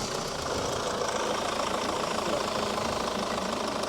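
A 2.0-litre diesel engine in a Chevrolet Cruze idles steadily with a rough, knocking rumble, running continuously at a close, even level without voices.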